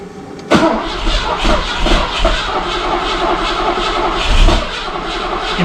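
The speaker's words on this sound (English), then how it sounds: "really what I need to do is wait for the starter to stop." A 1986 Mercedes engine cranks on its starter, a loud, close, continuous churning with steady rhythmic pulses that carries on without catching.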